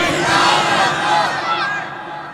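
A large crowd at a religious sermon gathering shouts the chant Lillahi Takbir in unison, a loud, sustained roar of many voices that swells and fades.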